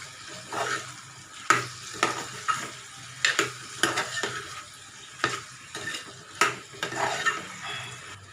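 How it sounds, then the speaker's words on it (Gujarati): A spoon stirs tomatoes into peas and potatoes frying in oil, giving a soft sizzle beneath repeated scraping and clinking strokes against the pan in an irregular rhythm. "હવે આપણે ટમેટા ઉમેરી દઈશું અને મિક્સ કરી દઈશું।"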